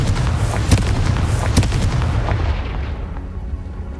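A Confringo blasting spell explodes in Hogwarts Legacy, a loud, deep rumbling boom with sharp cracks layered in, sustained and gradually fading toward the end.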